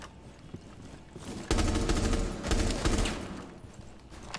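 Gunfire in the online shooter Rainbow Six Siege, a sustained burst of rapid shots up close that swells and pulses over several seconds, with music or game ambience underneath.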